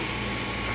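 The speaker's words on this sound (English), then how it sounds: "Listen to the motor." BMW E36 318i with the M42 engine idling, a smooth, even hum heard close up for under a second, with no voices over it.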